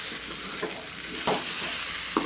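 Raw banana curry roasting in coconut oil, a steady close sizzle with occasional stirring scrapes and soft clicks of a spoon against the pan.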